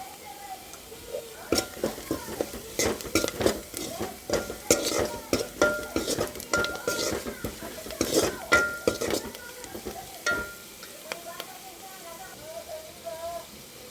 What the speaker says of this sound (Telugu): ఉల్లిపాయలు అయితే కాగిపోయినాయండి. పసుపు అనేది మనం యాడ్ చేసుకుందాం కొంచెం.